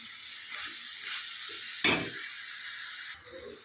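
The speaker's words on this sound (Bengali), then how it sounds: "এখনো ফুল স্টিমেই ভাজাটা হচ্ছে।" Chicken for chicken kosha fries on full flame in a pan, giving a continuous close sizzle with soft stirring and one sharp metallic clack of the spoon against the pan partway through.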